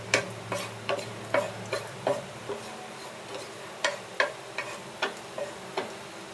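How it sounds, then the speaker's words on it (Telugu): Cashews frying in ghee in a pan, with a soft steady sizzle under a repeated light tapping and scraping of a spoon stirring, close and fairly quiet. "జీడిపప్పు వేయించేసుకోండి."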